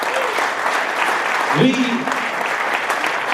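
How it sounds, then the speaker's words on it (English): A crowd at a local radio awards ceremony claps for an event sponsor, a steady wash of applause that runs throughout while a voice briefly speaks over it. "Round of applause for them, guys."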